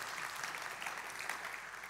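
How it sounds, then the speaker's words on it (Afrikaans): A church congregation applauding, dense steady clapping that fills the whole stretch at an even level with no voices on top. "Kom ons gee vir Clinton 'n lekker hande klap."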